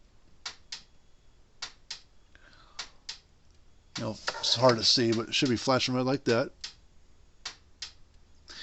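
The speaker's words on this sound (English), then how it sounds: "they should hear a little ticking sound coming from it" A Gallagher S-series solar electric fence energizer ticks in sharp, faint, regular clicks every half second or so, while someone talks briefly over the middle stretch.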